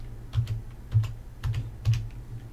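Keys clacking on a computer keyboard in short bursts of several quick strokes, four clusters separated by brief pauses, close and fairly loud with no voices.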